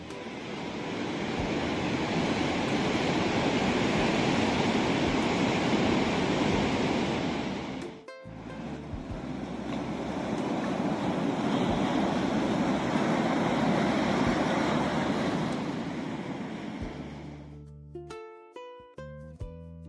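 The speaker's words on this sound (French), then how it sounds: "J'admire la force des vagues qui viennent s'écraser sur les rochers." Ocean waves crashing against the rocks at Fisterra on the Galician coast, a loud continuous roar with wind buffeting, briefly dipping mid-way before surging again, then ending in clicking handling noise.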